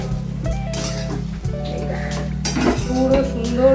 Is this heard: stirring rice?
yes